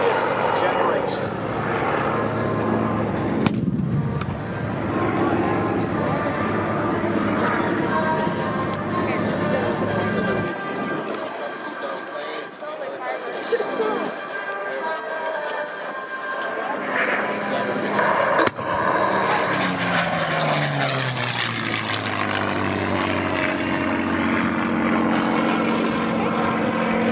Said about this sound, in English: the three Mustangs are going to do a salute to you,